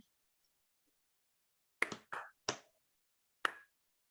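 A class of schoolchildren clapping a rhythm together during a physical education lesson: four quiet, sharp clap bursts in an uneven pattern, a close group of three followed by a single clap after a pause, with silence around them.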